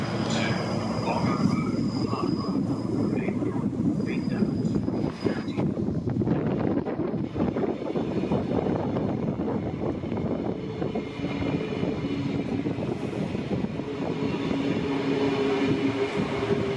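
A train pulls into the platform at Manly railway station, a loud steady rumble of wheels and rail noise with wind buffeting the microphone throughout, no talk heard.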